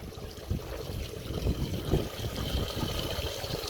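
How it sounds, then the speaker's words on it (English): Water flows steadily through a gold sluice box fitted with miner's moss, a continuous close trickling and rushing with a few small splashes and no talking. "You will now notice I've got water flow here. I've got an even flow coming down."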